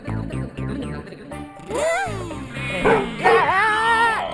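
A voice imitates a dog, letting out a few yappy barks and whiny, rising yelps, loud and close, after a stretch of rhythmic background music.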